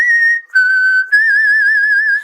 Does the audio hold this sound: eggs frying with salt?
no